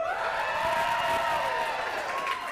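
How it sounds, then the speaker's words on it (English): Audience cheering in a practice round at a live event, a sustained wash of crowd cheers and whoops at moderate loudness, steady for a couple of seconds with no clear break. "Let's do a practice round of cheering."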